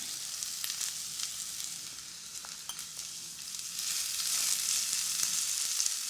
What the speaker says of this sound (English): whilst they're sizzling away